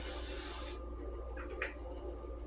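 Avocado oil spraying into a pan gives a short, steady hiss of close spray that cuts off abruptly, leaving a quiet kitchen hum.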